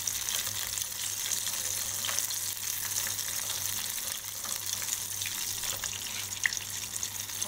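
Chicken pieces frying in hot oil in a home kitchen, a steady bright crackling sizzle with occasional pops, continuous and close, with no talk.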